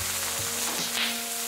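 Garlic cloves frying in hot oil for an Indian mint and coriander chutney, a steady close sizzle with a faint stir or two and no talking.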